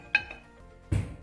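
A metal pot set on a stove for biryani, giving a bright clink followed by a second, heavier clunk of it settling into place, both close with quiet between.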